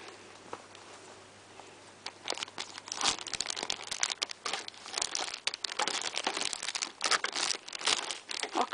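Blunt scissors cut sticky tape on packaging, giving irregular crinkling, crunching and tearing bursts that start after a quiet opening and continue in uneven clusters, close and fairly clear.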